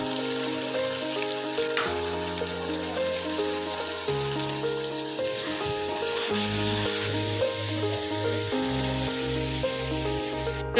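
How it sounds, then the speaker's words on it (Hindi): Chicken frying in a pan with chunky tomato and ginger garlic paste for a biryani, a steady soft sizzle that runs throughout under background music. "चिकन को 1 से 2 मिनट फ्राई करेंगे, और फिर इसके अंदर टमाटर मोटा मोटा कटिंग करके वो ऐड करेंगे"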